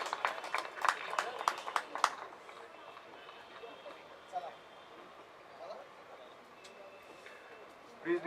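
Scattered hand clapping from an audience at a photography awards ceremony, a few sharp claps over the first two seconds before the room settles into a quiet murmur.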